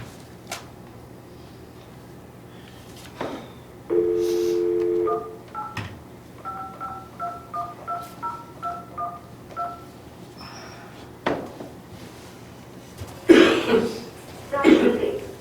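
Telephone keypad tones dial into a conference call, a long tone followed by a quick run of short beeps in steady rhythm, with coughs and throat clearing around them and a few handling knocks.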